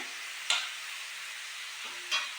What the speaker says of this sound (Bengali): তো এখানে আলুটা ভাজা হচ্ছে